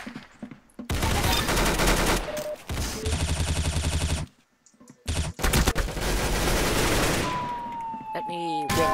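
Rapid bursts of gunfire from the Roblox shooting game Arsenal, loud and clustered with short silent gaps, followed by a rising whine-like effect near the end.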